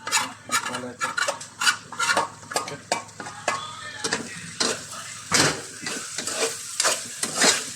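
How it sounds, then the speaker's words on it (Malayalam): Semi-fried sausage pieces stirred into masala in a pan for sausage kappa biriyani, with a steady run of scraping spoon strokes and a soft sizzle underneath, close and moderately loud. "അപ്പോൾ സോസേജ് നമ്മളൊരു സെമി ഫ്രൈ ആയിട്ടുണ്ട്. ഇത് നമ്മൾ നേരെ മസാലയിലോട്ട് ചേർക്കുന്നു."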